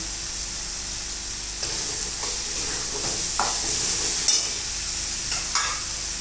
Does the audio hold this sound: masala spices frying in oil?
yes